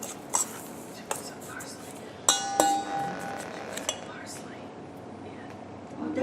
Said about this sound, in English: And then I'm going to stir that a little bit.